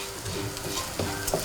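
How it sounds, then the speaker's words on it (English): Risotto rice for prawn risotto is stirred in a hot pan, with soft scraping strokes and gentle sizzling, close and continuous with a few sharper scrapes near the end. "you want to make sure that you keep on turning it, because you don't want it to burn"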